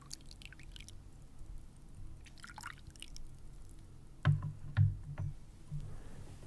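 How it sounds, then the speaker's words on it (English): Amber oolong tea poured into small teacups during a traditional Chinese tea ceremony, with soft trickling and a few distinct close drips and splashes toward the end, quiet overall. "And pouring it into the teacups."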